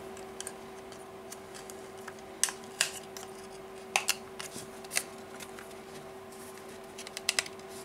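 Faint scattered clicks and small plastic snaps as a sharp tool pries the tightly fitted back of a water-damaged Huawei P9 Lite phone open, with irregular taps against a quiet background hum.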